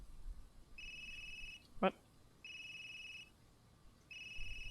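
A telephone ringtone chirps in repeated electronic bursts, three rings with short gaps, after the last number dialed is called back, and a single short spoken word cuts in between rings.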